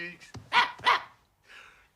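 A cartoon dog, the small white Idéfix from the 1985 animated film Astérix et la Surprise de César, gives two sharp, close barks in quick succession, with a short yip before and a faint voice after.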